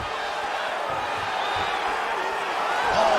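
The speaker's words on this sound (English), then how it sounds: "Big pop from the crowd as they get back to their feet after a pretty scintillating grappling battle there on the ground" A big crowd roars steadily in a UFC 5 video game bout, a dense arena wash that swells slightly near the end, with faint thumps beneath and commentary voices mixed in.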